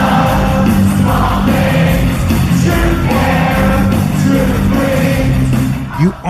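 Loud crowd at a 2015 concert, the band's first show back, singing along en masse with yells and cheers throughout, a dense continuous roar that dips briefly at the end.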